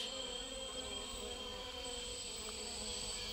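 Insects and mosquitoes buzz steadily through the Guiana forest floor, a dense continuous drone with several high whining tones held throughout, moderately loud and unbroken, with no voices.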